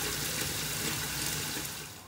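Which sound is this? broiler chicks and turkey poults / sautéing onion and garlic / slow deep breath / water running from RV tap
water running from RV tap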